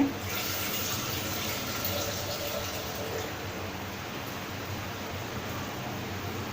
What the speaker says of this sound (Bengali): সামান্য একটু পানি দিয়ে দিচ্ছি